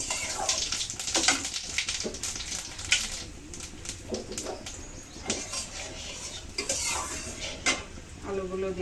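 Dry red chillies, bay leaves and whole cumin sizzling in hot mustard oil in a pan for cabbage stir-fry, with a soft frying hiss under repeated close clinks and scrapes of a spoon against the pot.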